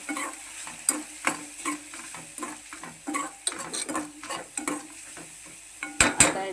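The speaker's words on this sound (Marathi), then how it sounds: "गरम मसाला तो थोडा हलवून घेऊया आपण" Garam masala being stirred into frying egg masala, with repeated scraping strokes of a spoon against the pan at an uneven rhythm over a soft, low sizzle, close and fairly quiet.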